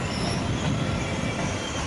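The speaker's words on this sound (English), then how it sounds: "There we go, got another Eurostar train arriving." A Eurostar train arriving at Paris Gare du Nord rumbles steadily with a broad, noisy roar and a faint high metallic squeal from the wheels on the rails.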